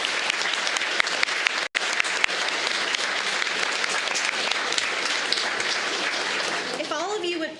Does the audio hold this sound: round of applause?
yes